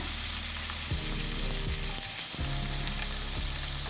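Gözleme filling of minced meat and tomato sautéing in a pan, a steady close sizzle with intermittent stirring scrapes and clinks, no voices.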